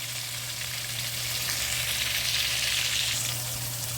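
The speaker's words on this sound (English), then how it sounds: "I'm going to sear them on both sides, about 2 minutes on both sides. And I'm searing this in olive oil." Lamb sears in olive oil for a stew, giving a strong, steady, close sizzle that holds evenly without voices and carries a low hum underneath.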